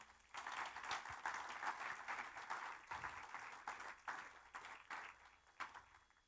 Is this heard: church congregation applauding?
yes